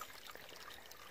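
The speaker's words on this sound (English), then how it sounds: "The water is flowing much more than it would this time of year." A creek runs in a faint, continuous trickle, with soft bubbling and splashing water and no voices.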